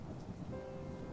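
Steady rain hisses throughout a stormy night in the game Locked Heart, with low rumbling beneath that suggests distant thunder rather than a sharp nearby crack; no voices.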